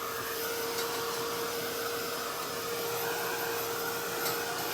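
Hair dryer blowing on a mixed media art journal page, a steady, even whooshing hum with a faint tonal whine, constant and unbroken with no one speaking.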